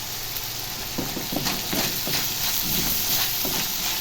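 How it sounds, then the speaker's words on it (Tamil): Chopped onions sizzle in hot oil in a pan while cooking chicken gravy, a steady hiss with short bursts of louder crackle and a few soft stirring scrapes, close up and with no talking. "எண்ணெயிலேயே ஃப்ரை ஆகிடுச்சு பாருங்கள் வெங்காயம்"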